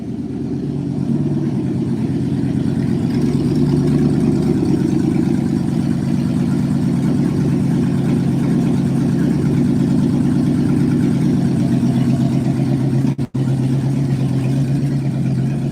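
A 1963 Chevrolet Impala engine idles steadily with a constant whirring cooling fan layered over it, unbroken for the whole stretch, apart from one brief dropout near the end.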